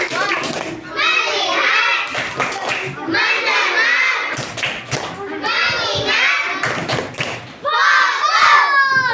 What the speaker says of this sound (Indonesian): tepuk fokus lagi. Tepuk fokus